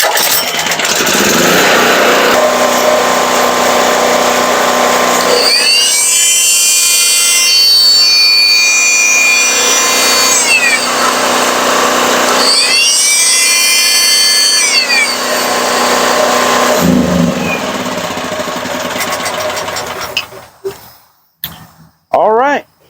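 A secondhand yard-sale generator runs loud and steady while a handheld multi-tool is switched on and off in two whining bursts, the engine note shifting under the load. The engine sputters and cuts out near the end.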